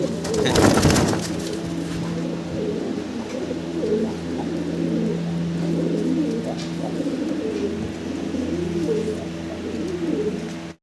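A pair of Danish pigeons, a female and an active male, coo in low, throaty, repeated murmurs close by, with a brief sharp fluttering burst near the start.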